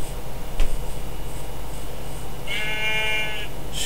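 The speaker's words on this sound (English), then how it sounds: "Sheep." A Minecraft sheep bleats once, clear and close, after a soft tap, over a steady background hum.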